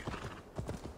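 Hooves of a horse trotting in Assassin's Creed Valhalla, a quick clip-clop pattern of a few soft, evenly spaced footfalls over a second, fairly faint.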